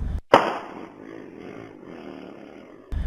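Gunfire in a shooting at a gate, caught on CCTV as a gunman fires at a security guard who shoots back: one sharp, loud bang with a ringing tail, then another abrupt burst at the very end.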